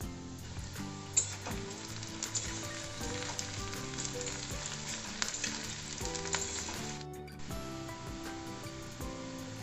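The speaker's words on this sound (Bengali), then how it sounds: "পেঁয়াজটা আমার ভাজা হয়ে গেছে" Onions frying in a pan for mutton kosha give a bright, steady sizzle with light stirring, heard under continuous background music.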